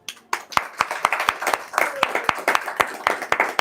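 Sharp clapping from a small group at a Sunday feast lecture, roughly a dozen distinct claps spread unevenly over a few seconds, close and fairly loud.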